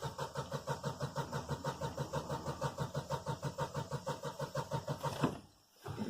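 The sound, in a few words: car engine cranking with accelerator pressed fully down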